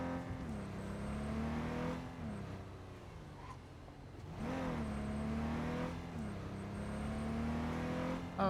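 A car drives in the video game Cyberpunk 2077, its engine humming steadily and revving up and down in pitch through repeated gear shifts, with no talk.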